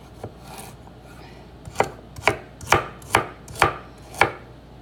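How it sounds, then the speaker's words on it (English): Knife chopping washed vegetables on a board in a home kitchen: a few scattered cuts, then a steady run of six crisp, evenly spaced chops, close and clear with no talking. "we're just chopping away here"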